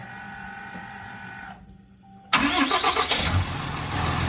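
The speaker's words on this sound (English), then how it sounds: "Now we should be able to crank it up." The Cummins diesel engine of a 2017 Ram 2500 cranks briefly after a quiet pause, then catches and roars loudly to life before settling into a steady, close idle.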